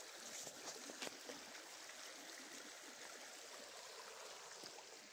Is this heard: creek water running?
yes